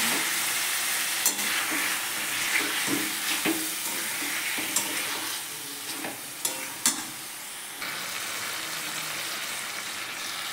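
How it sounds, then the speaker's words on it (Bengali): Chicken sautéing in a pan with spices such as cumin, coriander powder and Kashmiri chilli powder for chicken kosha, a steady close sizzle with scraping stirs and occasional spatula knocks, no voices. "মশলা দিয়ে ভালো করে কষিয়ে নিচ্ছি"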